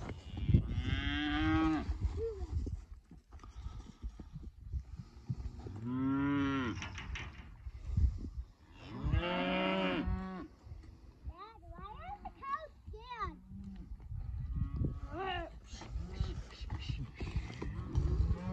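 Heifers mooing loudly in a cattle pen, several long drawn-out bellows one after another at close range, with people talking in between.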